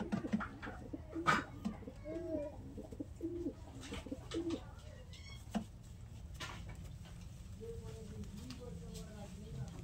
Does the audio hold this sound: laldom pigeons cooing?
yes